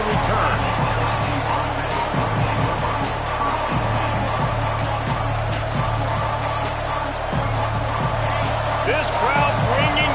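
Dense, steady stadium crowd roar at a Georgia vs LSU college football game, loud and continuous throughout with a commentator talking over it.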